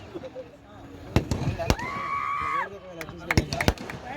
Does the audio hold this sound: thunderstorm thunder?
no